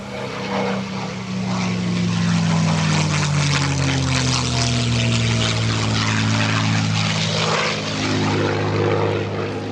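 Propeller airplane departing at EAA AirVenture in a signature sign-off maneuver, its loud engine drone sweeping down in pitch as it passes close and pulls away, steady and continuous throughout.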